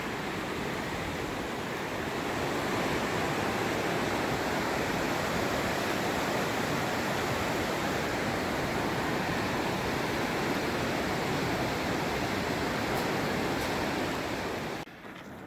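Colorado River rushing along a canyon trail at the Grand Canyon, a dense, steady roar of flowing water that stays loud and unbroken until it cuts off at the very end.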